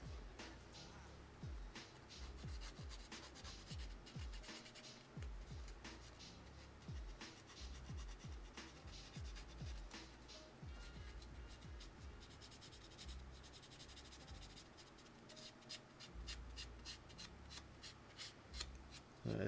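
Fine Tamiya 1500-grit sandpaper rubs over a small plastic part from a Real Grade Sazabi Gunpla kit, making steady close scratchy strokes in a quick repeated rhythm with no talking.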